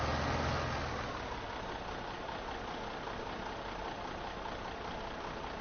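Steady, even drone of a tractor engine running with a baler in a farming video game, a continuous mid-loudness hum with no talk over it.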